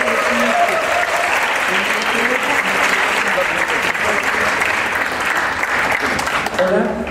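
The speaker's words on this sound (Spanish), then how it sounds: "Un aplauso por favor." Concert audience at a bolero night event applauding, a dense, steady wash of many hands clapping at full volume throughout, with some voices mixed in beneath.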